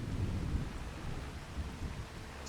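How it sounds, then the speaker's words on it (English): Rain and rumbling thunder in Farming Simulator 25, a dense steady wash of rainfall over low, continuous rolling rumble, moderately loud with no talking. "The rain started just as we set off"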